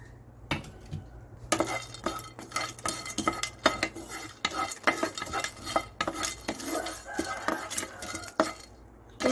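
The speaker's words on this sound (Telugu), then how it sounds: "ప్యాన్ అయితే పెట్టాను హీట్ అయింది ఇప్పుడు మనం దాల్చిన చెక్క ఇవన్నీ వేసుకుందాం" Whole spices such as cinnamon frying in a heated pan, with frequent metallic scrapes and clinks of a spatula stirring over a faint sizzle, close and without talk.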